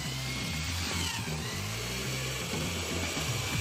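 A power drill runs continuously at high speed while peeling potatoes outdoors, a loud, steady whining motor drone with a grinding, scraping undertone, close and unbroken throughout.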